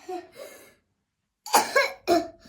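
A child coughs close by in a few separate bursts, a pair of softer coughs, then a pause, then two sharper, louder coughs.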